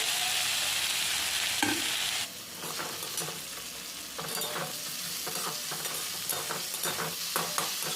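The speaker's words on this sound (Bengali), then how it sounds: "এটাকে আমি এক মিনিট আরও নাড়াচাড়া করে নেব একসঙ্গে মিক্স হয়ে যাবে এইভাবে" Katla fish curry masala with green chilli is stirred in a pan. A loud, hissing sizzle gives way to quieter frying under repeated scraping strokes of a spoon, heard up close without talk.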